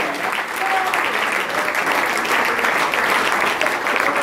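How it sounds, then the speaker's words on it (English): A church congregation breaks into loud, sustained clapping during a sermon, a thick wash of many hands close by, holding strong and even for several seconds. "Somebody give the Lord a clap"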